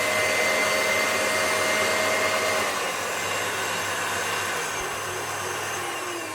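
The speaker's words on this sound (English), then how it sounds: "One Kitchenaid Artisan. Up and running again." A repaired KitchenAid Artisan stand mixer runs steadily on its own, a continuous whirring motor hum that stays loud and even before tapering slightly toward the end.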